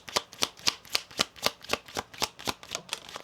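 Tarot cards being handled and shuffled, a steady run of about twelve crisp riffling flicks at an even rhythm, close and moderately loud, with no talking over them.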